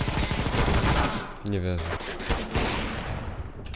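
Bursts of rapid gunfire from a Counter-Strike: Global Offensive match crackle loudly and continuously, with someone speaking Polish over the shooting.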